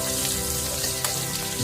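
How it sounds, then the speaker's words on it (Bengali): Chopped onions frying in a pan for a desi-style pork dish, a steady, loud, dense sizzle and crackle that fills the whole stretch without pause, with no talking. "তো দেখুন এখানে আমি কুচানো পেঁয়াজ দিয়ে দিলাম।"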